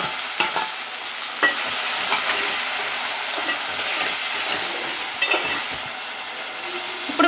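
Tomato pieces frying in a hot pan with ginger-garlic paste, a loud continuous sizzle with occasional sharp pops and stirring scrapes, steady throughout with no talking.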